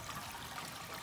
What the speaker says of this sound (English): that sets the pump running and the water flow